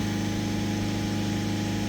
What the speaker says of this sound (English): I'm just going to hold the revs for another couple of minutes